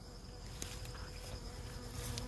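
Honey bees buzzing around an open beehive on a calm day, a soft continuous hum of many insects close by with no talking.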